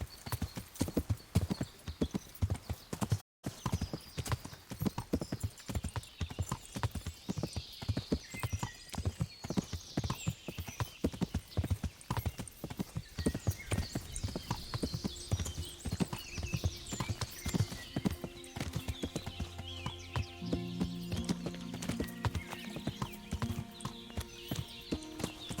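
Horse hooves clip-clop in a fast, steady rhythm while riding in the medieval game Kingdom Come: Deliverance, close and continuous for the whole stretch, with a brief neigh and faint game sounds layered in near the end.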